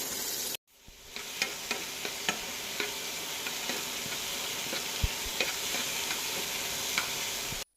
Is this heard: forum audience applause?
no